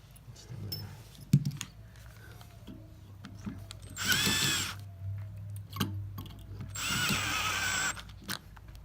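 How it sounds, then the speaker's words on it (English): Two bursts of an electric drill whirring, each a few seconds long, drilling out aluminum from a Barcelona chair strap, with quiet scraping and handling noises between them. "it's just a matter of drilling and getting the whole thing empty"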